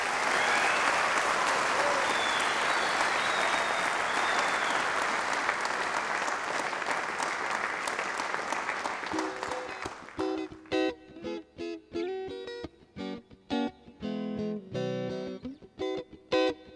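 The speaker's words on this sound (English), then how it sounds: "let's give a warm round of applause to Danie and his Township guitar" A stage audience at a magic show claps in warm applause for a township guitar player. The clapping is loud and fills the first ten seconds, then fades as guitar music takes over.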